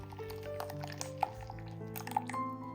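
Blended tomato puree is pushed through a strainer, giving soft drips and wet squishes at an uneven pace, faint and close over a steady tonal background.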